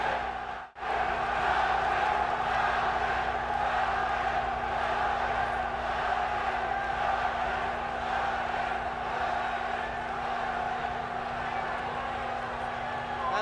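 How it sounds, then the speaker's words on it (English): Swiss crowd at a German heavyweight boxing match, chanting and roaring continuously as a dense, steady wall of voices throughout, with a brief dip near the start. "And this Swiss crowd really chanting and going crazy with the possibility"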